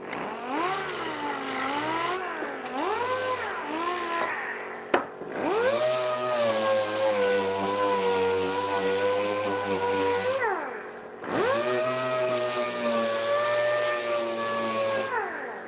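A 6-inch Rotex electric sander running on wood, a loud steady motor whine with shifting pitch as it works, cutting out briefly twice before spinning back up, with no talking.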